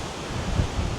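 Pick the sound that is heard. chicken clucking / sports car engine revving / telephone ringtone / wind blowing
wind blowing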